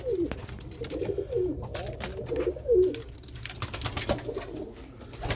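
Pigeons coo repeatedly inside a pigeon coop, soft rolling calls close by in a steady rhythm over faint background noise.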